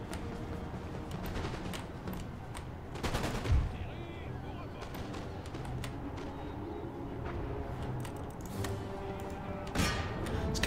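Ongoing Napoleonic-era battle in Empire: Total War, with scattered musket volleys crackling and a deeper artillery boom mixed into dense, steady battlefield noise, mid-distance, with faint voices underneath.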